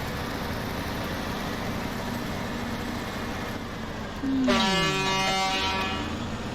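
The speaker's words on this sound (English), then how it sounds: "I honked the horn at that" In the SnowRunner video game, a truck's air horn sounds one sustained blast with a falling pitch over the steady drone of the engine.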